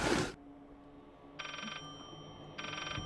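A telephone rings in the horror video game Layers of Fear, two electronic bursts spaced about a second apart following a short loud thump, set against a quiet room tone.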